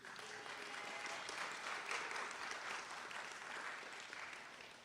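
A room full of alumni, students and faculty applauds in a chapel at a theological school celebration, a thick, even wash of clapping that sounds soft and somewhat distant.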